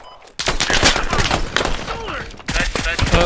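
Gunfire in the military video game Squad cracks in rapid, irregular bursts of loud shots and thuds, with voices talking over the shooting.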